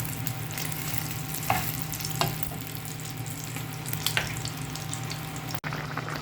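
Food fries steadily in a pan with a continuous close sizzle, a low hum underneath and a few sharp clinks of stirring, with no voices.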